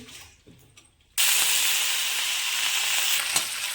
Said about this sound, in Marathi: कढईला मीडियम गॅसवर ठेवला आहे आणि आपण कढईमध्ये आता तूप टाकलं आहे